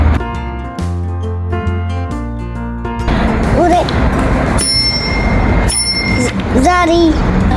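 A bicycle bell rings in a few short bright dings after the halfway point, close and loud, among clattering bike sounds and a voice talking.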